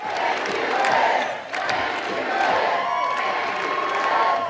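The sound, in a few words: crowd chanting in approval at a campaign rally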